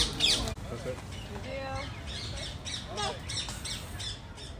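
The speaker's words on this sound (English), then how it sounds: "Wow, I didn't even know they had parrots here." Parrots squawk near Buckingham Palace in London, harsh raspy calls repeating in short bursts close by, over outdoor crowd noise and people talking.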